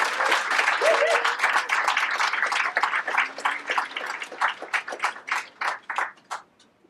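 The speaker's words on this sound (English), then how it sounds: "So let's give a very encouraging round of applause for Adiba" Audience applause at a fundraiser sit-in and poetry anthology launch, loud and close at first, then thinning into scattered individual claps that fade out, with a brief voice murmuring early on.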